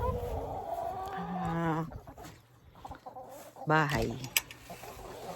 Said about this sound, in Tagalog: Yung aking pong mga manok.